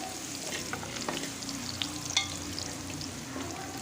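Cashews and raisins sautéing in oil for chicken biryani, a steady close sizzle with scattered light stirring scrapes and pops, no one speaking.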